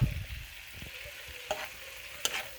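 Scallops and mussels cooking in a pan for a creamy seafood alfredo, a low steady sizzle with a few sharp clinks of a utensil against the pan, heard alone.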